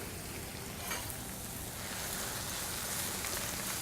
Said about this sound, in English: So whenever I'm sauteing mushrooms or spinach or Swiss chard, I add the salt in the beginning and it draws out the moisture.